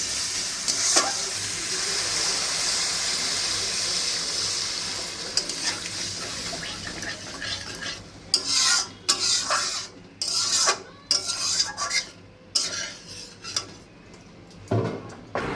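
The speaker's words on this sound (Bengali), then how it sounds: "এই যে মাছ এখন ফুটছে, মাছটা একদম রসা রসা করবে" Tengra fish curry with water and spices cooking in a pan, a steady hiss of simmering and bubbling, then a series of sharp clinks and scrapes of a utensil stirring against the pan near the end; no talk.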